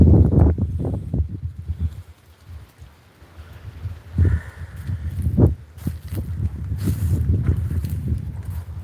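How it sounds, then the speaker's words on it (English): Wind buffets and rumbles in gusts, mixed with scattered thuds and footstep-like knocks, with no clear talking. "It is windy, actually."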